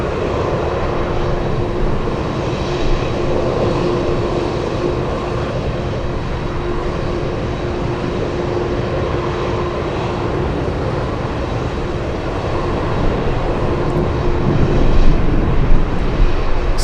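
A Boeing 747 jet at Anchorage airport gives a steady, loud engine roar with a constant drone, swelling slightly toward the end, with no voices.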